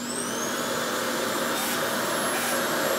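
A loud, steady whirring blower noise with a high whine running continuously, close up, from a Revair hair dryer on setting 4.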